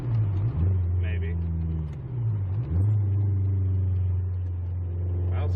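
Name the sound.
Car driving on stock suspension, test run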